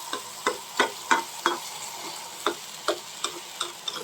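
Potato bhaji fries in a pan with a low, constant sizzle, and regular ticking strokes of a spatula tapping and stirring sound throughout.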